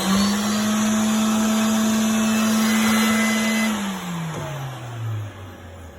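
Kärcher Chariot iScrub 26 floor scrubber switched on, a steady loud motor hum with broad whooshing noise that holds evenly, then winds down in pitch toward the end.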